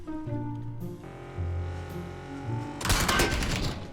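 Gunfire in the PUBG battle royale video game: a burst of shots in the final circle, dense rapid cracks, loud and close, layered over a steady tonal in-game background hum.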